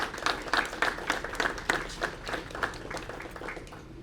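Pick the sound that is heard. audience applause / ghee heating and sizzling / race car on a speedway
audience applause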